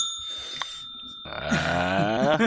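A small pun bell rings on a podcast, giving one bright sustained ding that fades, followed by a low, drawn-out voiced grunt.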